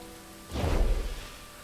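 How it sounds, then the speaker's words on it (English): Blood rain falling in Pathfinder: Wrath of the Righteous: a brief swell of rushing, hissing noise that rises, peaks for about half a second and fades back to near quiet. "It's raining blood!"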